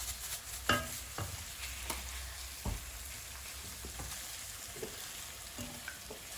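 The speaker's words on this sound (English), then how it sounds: "And she'll continue stirring until it becomes thick." A spoon stirs white sauce with nutmeg and salt in a pan on the stove, a quiet soft sizzle broken by irregular scrapes and light taps against the pan.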